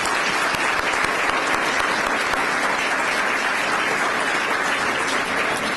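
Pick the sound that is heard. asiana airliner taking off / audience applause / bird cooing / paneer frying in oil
audience applause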